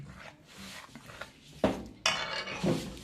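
Cauliflower being put into a baking dish, with soft scraping and rubbing followed by two sharper clinks of a utensil against the dish, close and fairly quiet.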